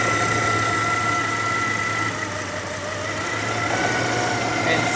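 A Hummer H3 engine idles steadily with a constant low hum and faint mechanical whine, close and continuous for five seconds with no talking.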